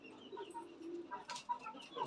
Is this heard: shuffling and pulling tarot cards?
no